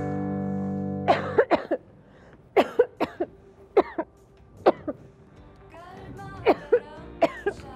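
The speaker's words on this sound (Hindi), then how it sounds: "क्या हो गया, इतनी खांसी?" Repeated harsh coughing from one person, a series of sharp bursts close to the microphone with short pauses between them, after a brief electronic tone at the start.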